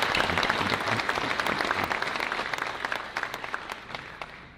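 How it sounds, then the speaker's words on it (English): An audience at a chamber of commerce annual meeting applauds steadily, dense clapping filling the room and slowly tapering toward the end. "If y'all join me in a round of applause"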